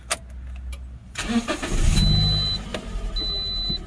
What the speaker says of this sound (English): So let's try to turn on the car and see the lights is off.